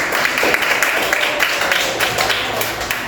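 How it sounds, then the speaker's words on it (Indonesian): An audience at a meeting claps together in a dense, steady round of applause, loud and close, with no voices over it. "Beri tepuk tangan untuk kita semua."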